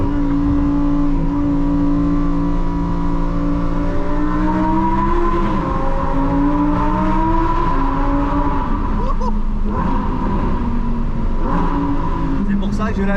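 A Lamborghini Huracan's engine roars and blips through repeated downshifts heard from inside the car with the window lowered, loud and continuous with shifting pitch while someone talks over it.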